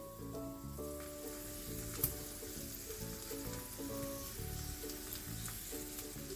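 Steady, crackling sizzle of gyoza dumplings frying in a pan, continuous throughout with a faint clink partway, no voices.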